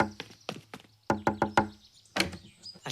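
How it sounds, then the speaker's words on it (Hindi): Knuckles rap loudly on a door in uneven bursts: a few scattered knocks, then a quick run of four hard thuds, then another pair after a pause. "रोहित, दरवाजा खोलो।"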